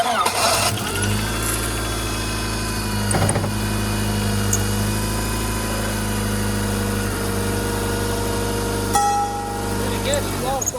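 An old, busted-up beater car being prepped for enduro racing cranks and starts, then settles into a loud, rough idle close by, with a brief sharp noise near the end.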